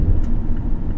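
A used car on a test drive rounds a roundabout, its engine and road rumble steady and close throughout.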